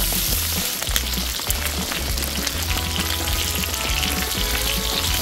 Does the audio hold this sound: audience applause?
no